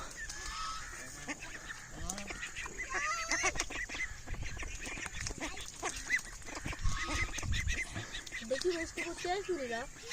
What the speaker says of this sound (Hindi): ये सारी छोटी डक्स उस बड़ी डक्स को मारना शुरू कर दिए, सारे मिल के उसको मारी है